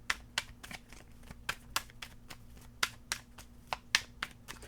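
Tarot cards shuffled and drawn from the deck at close range, a steady run of sharp riffling snaps and flicks, about a dozen crisp bursts over a low background hum, no talking.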